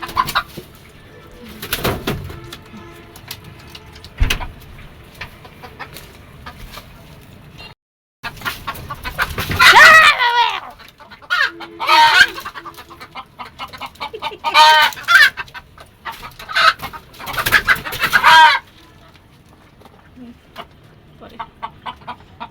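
Chickens and a rooster on a rooftop poultry farm clucking while they eat feed, with bursts of loud, close clucking and squawks in irregular clusters, separated by quieter stretches.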